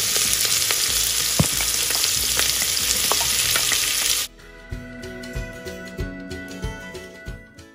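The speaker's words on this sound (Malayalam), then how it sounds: "അരിഞ്ഞു വെച്ചിരിക്കുന്ന സവാള ഇട്ട് കൊടുക്കാം" Chopped onions dropped into hot ghee with whole spices and bay leaf: a loud, dense sizzle with sharp stirring clicks, then an abrupt drop to a quieter crackle broken by rhythmic scraping strokes.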